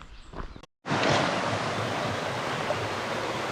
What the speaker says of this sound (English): So we're at the Sirhowy River, making our way down the Sirhowy Valley